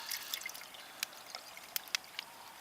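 Water poured into a pot over a camp setting outdoors to make hot chocolate, heard as a faint, intermittent trickle with small splashes and drips, alone without talk.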